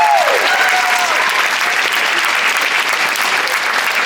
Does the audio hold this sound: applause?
yes